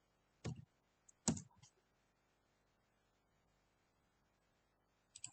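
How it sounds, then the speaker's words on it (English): A few scattered computer keyboard keystrokes while a password is entered in a virtual machine setup: two or three soft clusters of clicks in near silence, then one more tap at the end. "Now type your password."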